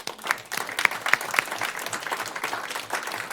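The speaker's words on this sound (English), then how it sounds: "Just a round of applause for all of us coming together tonight." An audience at a community forum on homelessness gives a round of applause. Close, distinct hand claps stand out early over a busy, moderately loud spread of clapping that continues evenly.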